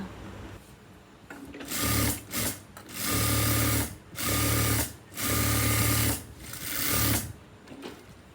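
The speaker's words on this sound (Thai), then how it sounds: "เย็บทั้งสองฝั่งซ้ายขวาเลยนะคะ" A sewing machine stitching shirt pieces together runs in several loud, close bursts of rapid whirring, separated by short pauses, with no talking over it.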